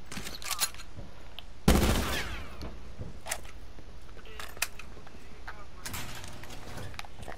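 A shotgun fires in the video game Call of Duty Blackout. One loud, close blast rings out, followed by a few fainter sharp shots, with a voice talking over it.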